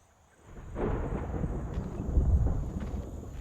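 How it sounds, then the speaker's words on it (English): A low, rumbling roll of thunder builds after a quiet moment and keeps grumbling steadily, broad and heavy, with no voices. "Thunder."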